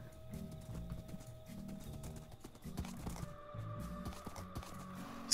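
Horse hooves clip-clop in a steady trotting rhythm in Minecraft, set among cherry trees, with a few thin tonal game sounds over the fairly quiet beat and no talking.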